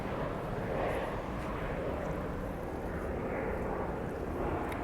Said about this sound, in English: So he put away his wheels real fast, landing gear.